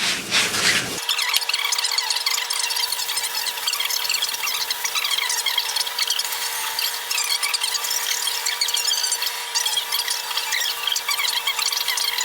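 Steady, continuous hand block sanding of filler on an IS300 car body, a loud, even scratchy rasp that runs unbroken for the whole stretch after a brief initial thump.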